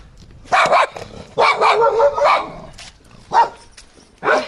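Dogs in a rural village yard bark in loud, close bursts, a few rapid barks followed by two separate single barks, alone without talk.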